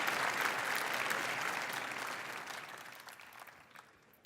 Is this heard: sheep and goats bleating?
no